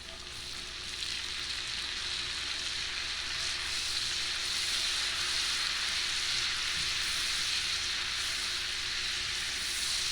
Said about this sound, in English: just let that sizzle and absorb all the flavors